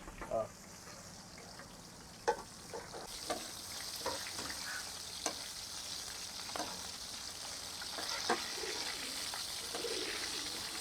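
Sea fish frying in a pan with a steady broadband sizzle throughout, brightening after a few seconds, punctuated by faint clicks and stirring knocks.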